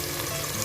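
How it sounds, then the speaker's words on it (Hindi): Onions fry in hot ghee with a dense, continuous sizzle, close and steady throughout. "ये हमने लिया है घी और इसमें हम लोग डालेंगे प्याज।"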